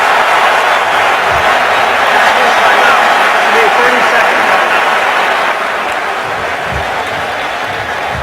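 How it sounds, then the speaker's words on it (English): Dense, loud roar of a stadium crowd at a 2016 Bengals at Jets NFL game, a continuous wash of cheering and clapping that stays intense for the whole stretch, easing slightly toward the end. "The crowd noise is awesome."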